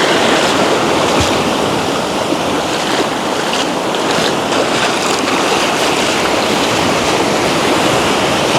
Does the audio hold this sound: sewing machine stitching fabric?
no